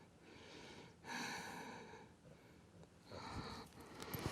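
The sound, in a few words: dog breathing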